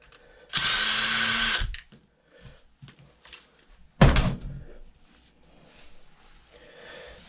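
A power drill removes long Phillips head bolts from the top of a Savage Flux 8s. Two loud, close bursts of whirring are separated by clunks and quiet handling noises.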